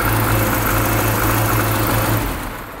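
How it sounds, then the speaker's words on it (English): A classic Mini engine idles unevenly and a little lumpy, with a steady loud low hum and irregular mechanical pulsing close by. It fades toward the end as it is switched off. No one speaks. "It's running a bit lumpy, but it sounds sweet mechanically."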